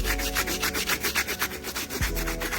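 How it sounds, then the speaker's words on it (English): A steel wire brush scrubs the rubber soles of Air Jordan 3 Cardinal Red sneakers in quick, even back-and-forth strokes. The rasping scratches are close and steady, with no voices. "I'm going to use a steel brush, a wire brush, to go ahead and get the soles done"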